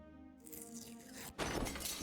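Stained glass window shatters with a sudden, loud crash partway through a scene in the adventure game Deponia Doomsday.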